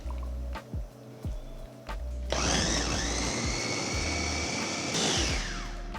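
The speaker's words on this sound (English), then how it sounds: "help our blender to blend everything by scooping everything down from the walls" A kitchen blender whirs loudly and steadily, blending avocado chocolate mousse with fatty cashew milk, with squishy churning and a rising whine after a quieter start.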